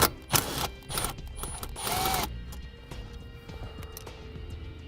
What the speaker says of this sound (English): we'll now remove that bolt